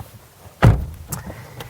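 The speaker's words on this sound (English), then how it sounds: "Let's open the frameless door and take a look in the cabin." Frameless door of a Nissan GT-R opening: a single solid thunk of the latch releasing, followed by a lighter click and faint mechanical rattle, close and clear.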